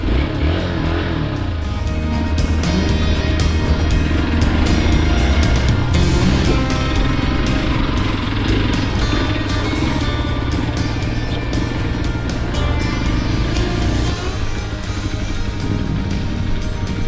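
An XPulse 200 motorcycle engine runs loud and close off-road, a continuous rough rumble that stays strong throughout, with no clear stall showing.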